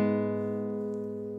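Two open guitar strings, the low E and the G, plucked together once and left to ring, a steady chord that fades slowly with no talking.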